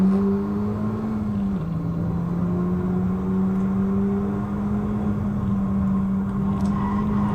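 A Honda Civic Type R on a Nurburgring lap hums with a steady, sustained engine drone holding a nearly constant pitch, a smooth whirring tone that stays loud and even without breaks.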